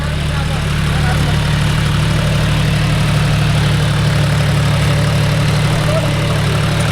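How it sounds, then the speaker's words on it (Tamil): A John Deere 5104 tractor engine runs at a steady, low idle-like drone, constant and fairly loud for the whole stretch, with a faint voice talking underneath. "வண்டி எவ்வளோ அமைதியாக போடுது பாரு."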